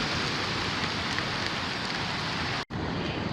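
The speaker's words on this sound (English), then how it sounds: "Oh, we have some rain." Steady rain falls outdoors near a Honu nesting site, a dense, even hiss of drops on surfaces that keeps up without pause apart from one very brief dropout.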